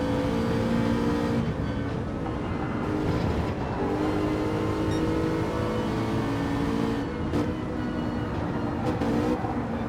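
Toyota Supra race cars in Gran Turismo 7 during a BTCC replica championship race, with several engines droning loudly and steadily together, revs rising and falling across the pack with no break.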